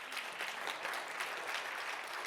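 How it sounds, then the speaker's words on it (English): An audience at a motivational speaking event gives a short, steady burst of clapping, fairly soft and continuous throughout. "clap for this one"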